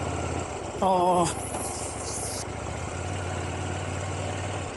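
A 2024 KTM Duke 790 motorcycle engine idling unevenly, a low steady rumble that keeps on under a brief stretch of speech from a man.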